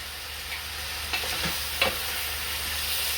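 Kofta balls and potatoes fry in a pan with a steady, close sizzle, broken by two brief scraping stirs of a utensil; no voices.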